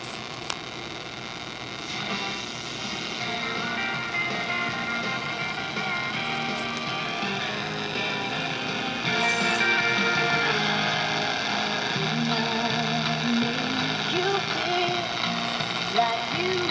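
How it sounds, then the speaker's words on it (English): Radio static from an air conditioner interfering with reception, a continuous hissing crackle with a faint underlying hum, steady and fairly loud throughout with no talk. "That static you're hearing is the air conditioner."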